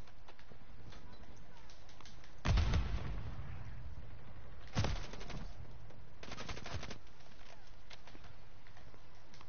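Battle rifle gunfire in a video game, with a couple of loud bursts of shots standing out over steady game background noise and a later volley that is fainter.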